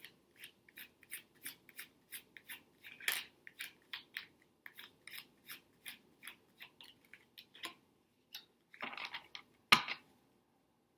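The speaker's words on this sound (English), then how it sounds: "Let me get the cards out" Tarot cards being taken out and handled: soft, faint rubbing and flicking of card stock in a quiet room, many small irregular rustles, with a couple of slightly louder slides and taps near the end.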